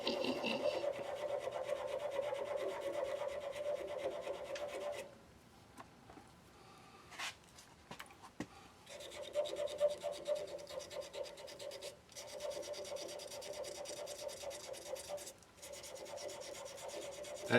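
Sandpaper of 320 grit rasps steadily against a shaving brush end cap in long continuous strokes, pausing briefly and changing pace midway before resuming the close, scratchy rubbing.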